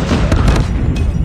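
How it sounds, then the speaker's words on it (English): A single loud, deep boom of a Predator missile striking in a multiplayer first-person shooter, close and forceful, with a brief rumbling tail. "Predator missile awaiting orders."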